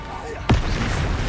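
The Bombarda blasting spell in the Hogwarts Legacy video game goes off as a single sharp, loud explosion partway through, amid ongoing game noise and a speaking voice.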